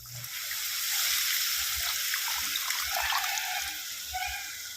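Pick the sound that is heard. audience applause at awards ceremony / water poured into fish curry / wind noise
water poured into fish curry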